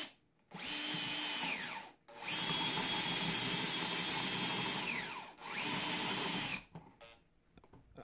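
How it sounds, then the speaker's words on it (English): A power drill runs in three long, steady bursts, grinding through clamped plywood, with short pauses between them. "I drill halfway, then I flip the plywood over to complete drilling the hole."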